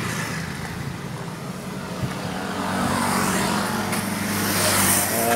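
A 2018 Mitsubishi Xpander car engine fitted with an HHO fuel saver revs up, a steady broadband roar that swells louder in the second half, heard close with no talk.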